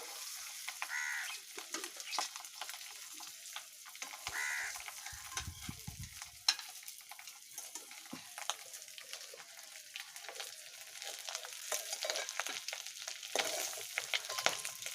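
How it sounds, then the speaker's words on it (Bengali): Duck eggs fry in hot oil with a soft, steady sizzle and crackle. Scattered clinks of stirring break in now and then, and the sound stays fairly faint and close throughout. "ডিমগুলো লাল লাল করে ভাজা হয়ে গেছে।"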